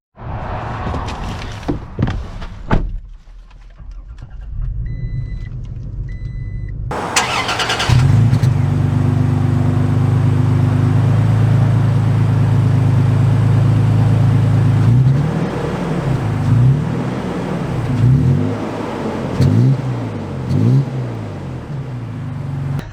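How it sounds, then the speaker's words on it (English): 2022 Toyota Tacoma TRD Pro with automatic transmission starts after some quiet cabin clicks, then idles and pulls away, its engine droning loud and close and rising and falling through gear changes, no talking. "Setting off here in the TRD Pro"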